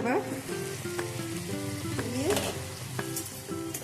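Vegetables and pui shak cooked with dried fish (shutki) sizzle loudly and constantly in a pan as they are stirred, with scraping strokes throughout and a faint voice underneath.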